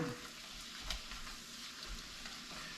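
Spaghetti squash being stirred with butter and sun-dried tomato and basil pesto in a pan, giving a steady close sizzle with soft scraping stirs and one brief louder clatter, no voices.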